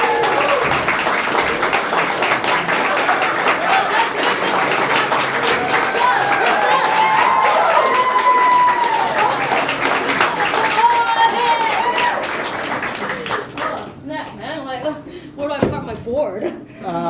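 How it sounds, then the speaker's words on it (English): Enthusiastic audience applause for a costumed adventurer coming on stage, a dense roar of clapping with cheers and chatter, thinning near the end as voices and stray sounds take over. "please, a huge round of applause for our first adventurer"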